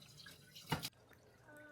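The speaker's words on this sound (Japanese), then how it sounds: "Lately, Emma is into washing dishes, so she's helping me out." A child washes dishes at a kitchen sink, with one brief splash of water against an otherwise quiet, faint background.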